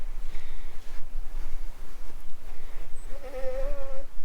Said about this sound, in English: But there's 10 goats out grazing.